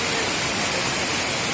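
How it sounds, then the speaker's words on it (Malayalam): A waterfall with fast-flowing water rushes in a constant, broad roar, loud and unbroken for the short moment with no talk over it. "ഞാൻ എൻ്റെ ബാക്കിൽ കാണുന്നതാണ് വെള്ളച്ചാട്ടം കേട്ടോ"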